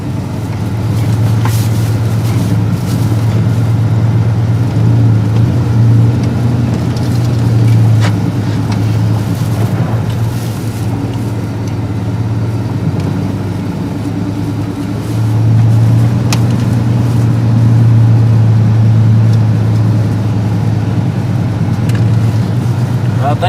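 A car rolls along on a test drive after its rear differential spider gears were replaced, a steady low engine and road drone running throughout, with people talking over it.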